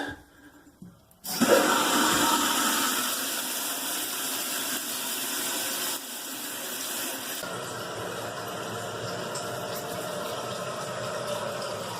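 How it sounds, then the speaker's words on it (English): Water rushes steadily into a toilet tank through a newly replaced Korky fill valve, a loud continuous hiss and gush that starts abruptly after a short quiet moment and eases slightly partway through. "Now I'm going to turn the water on, see if there's any leaks."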